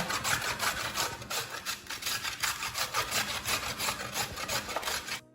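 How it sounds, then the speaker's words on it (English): A carrot rasped back and forth over a grater in quick, even strokes, a close, continuous scratchy rhythm with no voices. "So now that the carrot is being grated"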